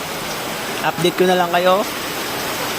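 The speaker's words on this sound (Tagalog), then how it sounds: "Dahil malakas ang ulan." Heavy rain keeps up a constant broadband wash in the background while a person speaks briefly over it partway through.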